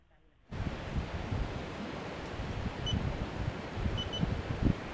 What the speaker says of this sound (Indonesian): dari tadi pagi sampai sekarang jam 2 siang loh ini ombaknya gak mau berhenti. Anginnya juga makin kencang.